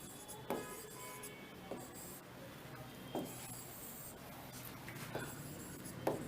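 Chalk or marker strokes scratch across a classroom board while an example word is written, several short rasping bursts spaced a second or so apart, faint and close with a quiet room behind them.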